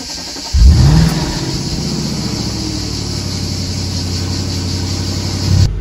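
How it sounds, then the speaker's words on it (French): An Audi RS3 engine fires up with a sharp rev, then settles into a loud, steady rumbling idle through the exhaust before a second blip of the throttle near the end. "Mais ma RS3 fait quand même plus de bruit"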